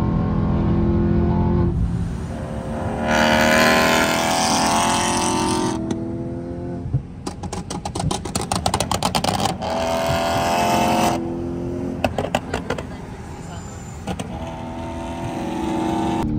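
A 700 HP BMW E9X M3 runs hard on the Autobahn, its engine climbing through repeated full-throttle pulls with abrupt gear-change breaks and crackles in between, loud and close with no talking.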